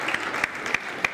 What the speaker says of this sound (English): A better round of applause for Madam President, please.